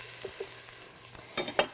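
Onions softening and browning in a pan give a soft, steady sizzle, with a few light clinks and stirring scrapes toward the end; quiet and without talk.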